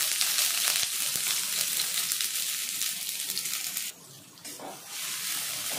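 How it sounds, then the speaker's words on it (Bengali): Chopped onions sizzle and crackle as they go into hot mustard oil in a kadai, a dense, steady frying hiss that thins out briefly near the end before rising again. "পেঁয়াজটা লাল করে ভেজে নেব"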